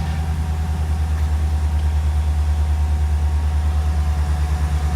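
A 2019 Ram 1500 Bighorn with a 5.7L HEMI V8 and eTorque idles close by, a steady deep rumble that holds even and unbroken, with no talk over it.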